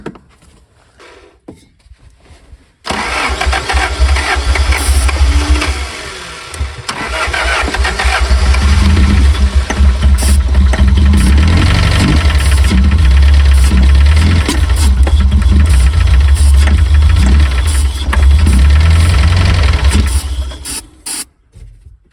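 A 1984 Toyota Van Wagon engine, not run for 25 years, cranks and catches after a few quiet seconds, then runs loudly and steadily with a rough, knocking idle for about eighteen seconds before cutting off.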